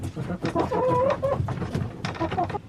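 Chickens fed on pellets cluck close by in a quick, busy series of short calls, loud and layered, with no talk.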